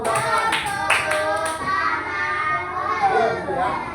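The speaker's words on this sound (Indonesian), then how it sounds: "Coba tepuk tangan untuk si Bulan" Schoolchildren clapping for a classmate in a classroom lesson, a few loud claps near the start amid lively children's chatter, then voices carry on without clapping.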